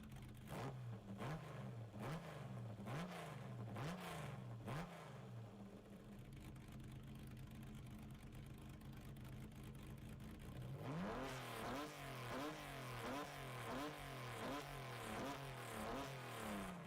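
A car engine in the racing game GT Sport, a Fugu-tuned Double Z, revs repeatedly in rising and falling sweeps, drops briefly to a steady whir, then resumes rhythmic hard revving up close.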